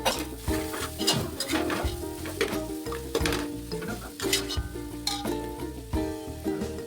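Spices for mutton biryani sauté in a pan, a close sizzle broken by rhythmic scraping stirs roughly every half second.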